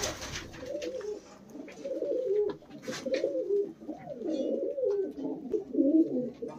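Punjabi Malwai pigeons cooing close by in repeated low, rolling phrases that rise and fall over several seconds, with faint background rustles and no speech.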